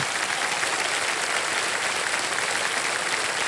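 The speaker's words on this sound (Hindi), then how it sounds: "एक बार तालियों के साथ उनका स्वागत कर दिया" Studio audience applause on a Kaun Banega Crorepati game show set, a dense, steady wash of many hands clapping at full volume throughout, with no voices over it.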